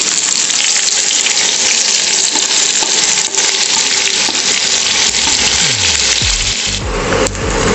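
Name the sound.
frying sliced onions in ghee and oil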